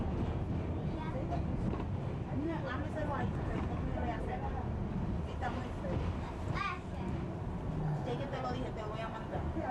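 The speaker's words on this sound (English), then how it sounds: "We're riding the E train towards Queens." Rumbling ride aboard a New York subway E train heading toward Queens, a steady dense rail and car noise with chatter and children's voices mixed throughout.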